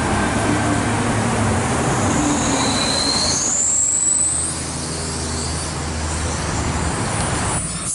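A Sydney electric passenger train runs through Asquith station without stopping, its steady loud rumble and wheel noise joined by a rising wheel squeal before the passing sound eases to a lower hum.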